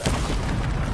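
A Bombarda explosion spell from the video game Hogwarts Legacy goes off as a dense, rumbling boom filling the whole second without a break.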